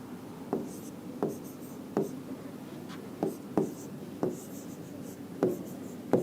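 A coded word is handwritten while solving a reasoning question, pen tapping and scratching in a steady series of distinct strokes roughly every half second to second, close and clear with no speech.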